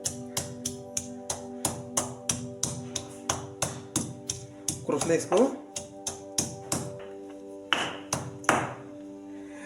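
Ginger and garlic cloves are pounded for mutton Champaran, giving a steady run of sharp, evenly spaced taps close by with a brief rattling scrape midway, while a person speaks over the work.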